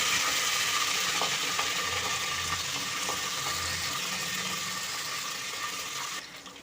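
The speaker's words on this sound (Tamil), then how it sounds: "இப்போ கடுகு பொரிஞ்சு பெருஞ்சீரகம், பூண்டு, கருவேப்பிலை எல்லாம் போட்டாச்சா, அதுவும் நல்லா பொரிஞ்சிருச்சு" Mustard seeds, crushed garlic, fennel and curry leaves spluttering in hot oil in a clay pot while cooking tomato rice, a steady dense hiss of crackling with faint scattered pops, fairly close and without voices.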